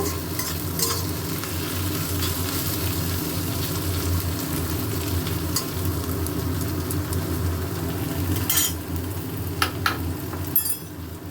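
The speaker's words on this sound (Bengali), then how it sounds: "পেঁয়াজ ভাজা হচ্ছে।" Onions sizzle steadily in hot mustard oil, a continuous frying hiss with occasional scraping stirs and clinks, over a low background hum.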